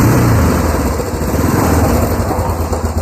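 A Yamaha Big Bear ATV engine runs in gear, a loud, steady, close buzzing drone with a slight rhythmic pulse and no talking.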